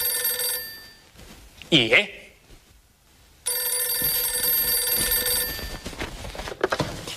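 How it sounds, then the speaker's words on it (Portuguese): A telephone rings in a short electronic burst at mid volume, with talk before it and another voice answering over continuing background sound afterwards. "É o telefone?"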